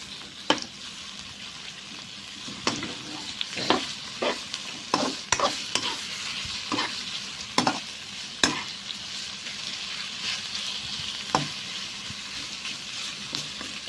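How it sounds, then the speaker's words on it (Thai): Pork marinated for three hours in palo spices, with a little garlic, is stir-fried in a hot pan: a steady sizzle with repeated scraping stir strokes, close and fairly loud, with no talking. "หมูที่เราหมักไว้สามชั่วโมงนะ หมักเครื่องพะโล้แล้วก็ มี กระเทียมนิดหน่อยค่ะ ผัดให้หอมนะเพื่อนๆนะ"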